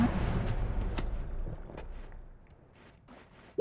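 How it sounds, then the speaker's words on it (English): Explosions from the game Noita, triggered by revenge effects during a hover speedrun: a dense rumbling burst of booming blasts and crackling debris that fades over a few seconds. "I don't think my revenge explosions blow through"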